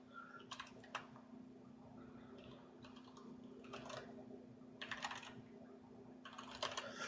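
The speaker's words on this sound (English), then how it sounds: "I'm going to be typing this in." Keys clack on a computer keyboard in quick bursts of typing with short pauses between, close and quiet over a faint steady hum, no voices.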